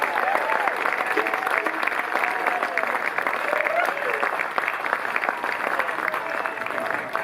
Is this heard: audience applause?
yes